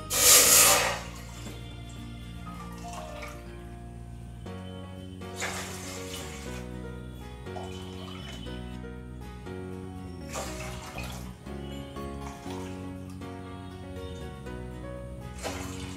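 Five glasses of water are poured into a pan for sweet pongal, a short loud splashing gush at the start that quickly gives way to steady background music with no speech.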